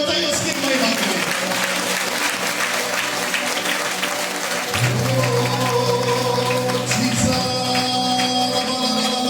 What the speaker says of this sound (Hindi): जोरदार ताली बजाइए उसकी महिमा के लिए